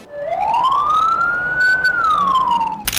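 An ambulance siren rises into a long high wail that holds, then slowly falls, loud and close, with road traffic faintly underneath and a sharp noise burst at the very end.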